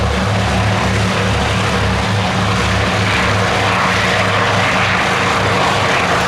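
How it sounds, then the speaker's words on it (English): A Canso Catalina flying boat passes at the 2023 Duxford Battle of Britain Airshow, its twin radial piston engines droning loud and steady throughout with a rough propeller throb. "First off, we've got the Catalina."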